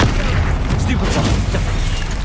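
Stupefy stunning spell cast in the Hogwarts Legacy video game, a loud booming burst amid continuous dense game combat noise, with no talking.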